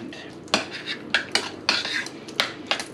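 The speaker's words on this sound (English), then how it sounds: "I'm gonna stir in three big spoonfuls right there, and hopefully the pasta should be a nice binding agent" Spoon clinks and scrapes against a dish as three spoonfuls of cheese sauce are stirred into pasta, several sharp close metallic knocks spaced through steady scraping, no voices.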